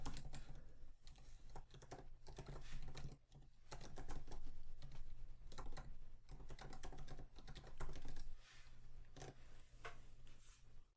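A git clone command typed on a computer keyboard, a quick irregular run of soft key clicks with short pauses, close and fairly quiet, with no talk.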